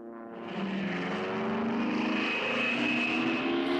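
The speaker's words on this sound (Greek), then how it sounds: "Ένα τέτοιο αεροπλάνο πέταγε τώρα πάνω από το κεφάλι της Ανούλας" A propeller plane drones steadily overhead, its engine hum swelling slightly louder as it passes, with no other sounds.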